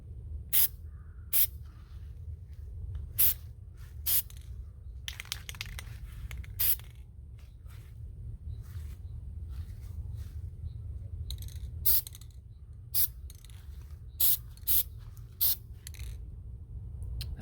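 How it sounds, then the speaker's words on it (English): Short, sharp hissing bursts from a spray can paint an AR upper receiver, about a dozen quick sprays spaced irregularly over a low steady background hum, close and fairly loud. "Make sure this is spraying true."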